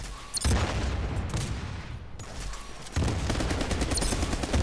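Gunfire in the game Armajet, rapid automatic bursts rattling loud and close in two long strings separated by a brief pause.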